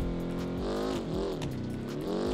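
A twin-turbo car engine roaring in BeamNG.drive multiplayer racing, revving up and dropping repeatedly in quick gear changes, loud and close, with no talk over it.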